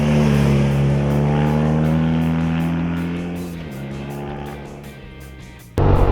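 A BMW R nineT Urban G/S boxer motorcycle cruising at 80 km/h gives a steady, loud engine drone with wind rush. The pitch sags slightly midway before a sudden burst of louder noise near the end.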